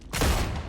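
A short, loud burst of gunfire in the StarRupture video game cuts in abruptly and rings out briefly over a steady game background.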